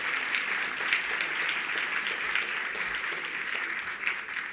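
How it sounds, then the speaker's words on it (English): An audience applauds the board of directors at the HACR CEO Roundtable, a steady wash of many hands clapping at moderate volume, even and sustained without pause. "Give them a big round of applause"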